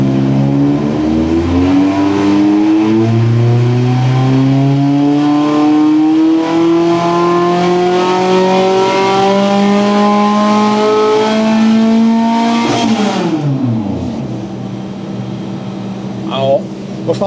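A Volvo AQ151 engine fitted with Maringren exhaust pipes revs up in a long, steady climb of rising pitch, loud and close, then drops sharply back to idle, with brief voices near the end.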